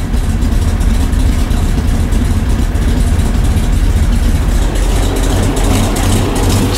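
A 1965 Chevrolet Corvair engine with a newly installed electric fuel pump idles steadily up close, giving a loud, even, low rumble with a fast regular pulse and no talking.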